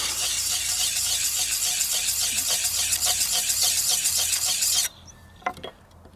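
A hand tool edge is sharpened on a stone with a run of quick, light rasping strokes for several seconds, which stop abruptly and leave a few faint scrapes and clinks.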